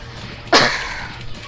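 A woman gives a single sharp cough, close and sudden, over a quiet background hum of a Rayman 3 game session.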